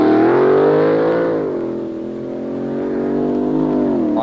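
A fuel dragster engine at a classic drag race. It roars loud and close, with a strong revving drone that dips in the middle and swells again.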